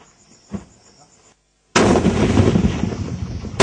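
Cross-border gunfire and shelling in Jammu and Kashmir: a faint distant thud comes first, then after a short silence a loud, sustained roar of firing and blasts continues to the end.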